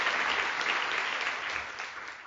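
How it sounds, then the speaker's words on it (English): An audience at an evening award event honoring Leah Penniman applauds steadily, a dense wash of many hands clapping at a moderate distance with no voices over it. "Give yourself a round of applause for being here"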